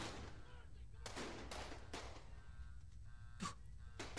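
Gunshots in the video game Evil Nun: The Broken Mask, several sharp bursts at irregular intervals, some in quick pairs, fairly faint against a low background.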